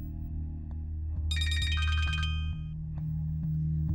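A mobile phone rings with a bright repeating electronic tone for about a second and a half, over a steady low hum in a quiet room.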